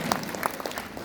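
A political rally crowd claps in a short, uneven burst, scattered individual hand claps standing out over the crowd noise.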